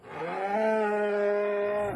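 A dairy cow gives one long, steady moo, close and clear, holding a low, even drone for about two seconds before trailing off.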